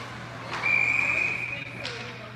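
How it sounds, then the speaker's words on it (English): A referee's whistle sounds once in a single sustained blast of about one second at a 12U Peewee youth ice hockey game in an arena, heard at a distance over steady rink hum and crowd noise. "where we have a whistle"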